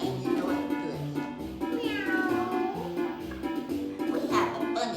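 Children and adults singing a playful song imitate a cat, voices meowing in a rising, drawn-out way under soft background music.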